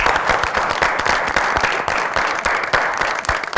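Loud, dense audience applause from a studio crowd welcoming a young boy guest onto a TV show stage, steady clapping throughout with no pauses.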